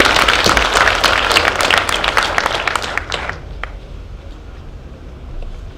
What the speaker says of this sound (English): I'd like all of us to actually clap for Mathare Hospital for the good work